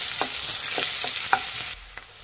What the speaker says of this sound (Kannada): ಈರುಳ್ಳಿ ಒಂದು ಸ್ವಲ್ಪ ಫ್ರೈ ಮಾಡಿ.